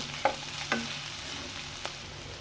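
Spatula stirring fish curry in a hot pan gives a few soft scraping strokes over a steady low frying sizzle, close by and fairly quiet, with no voices.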